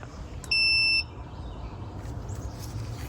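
An electronic torque wrench beeps once it reaches its set torque of 18 foot-pounds on an oil filter housing, a single loud, clear electronic tone of about half a second against faint background noise.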